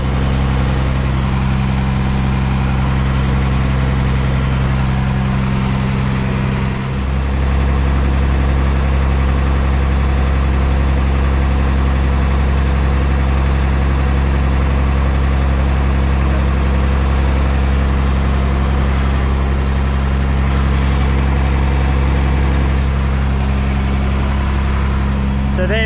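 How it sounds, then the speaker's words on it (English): A Unimog U1700 expedition truck engine running with the revs raised, a loud, steady low diesel drone close by that holds unbroken for nearly half a minute. "So now we'll start the truck up, bring the revs up."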